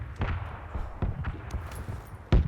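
Distant bombs bursting in the PUBG battle royale game, a series of muffled booms and thuds scattered across the moment, with one louder, closer blast near the end.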